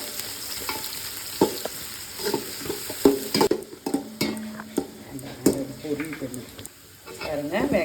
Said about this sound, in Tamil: வெங்காயம் வந்து நல்லா ப்ரௌனிஸாக இந்த அளவுக்கு பொரிஞ்சு வரணும் நம்மளுக்கு